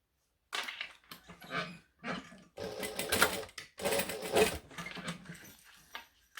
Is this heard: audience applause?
no